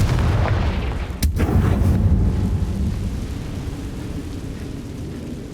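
A Confringo blasting spell in Hogwarts Legacy lands as one sharp, loud blast near the start, followed by a long rumbling roar that slowly fades.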